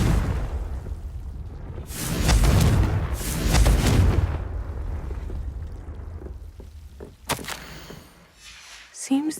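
A Confringo fire spell blasts off in Hogwarts Legacy on PS5 Pro, giving a loud booming explosion with a rumbling whoosh that swells twice and then fades, followed by fainter crackling hits.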